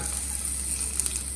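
Chopped green chillies and ginger sizzle in hot oil, a steady close frying hiss with faint crackles throughout the brief moment.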